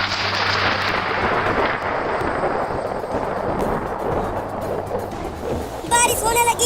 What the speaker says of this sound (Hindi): बारिश होने लगी, बारिश होने लगी।